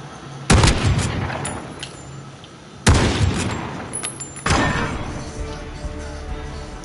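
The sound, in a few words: gunfire from a gun in Call of Duty video game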